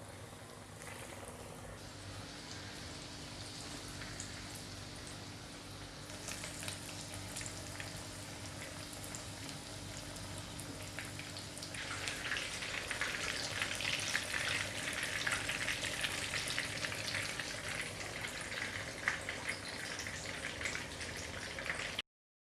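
KFC-style chicken nuggets frying in hot oil over a low flame, a quiet, steady crackling sizzle that grows busier and slightly louder partway through, heard alone with no talking.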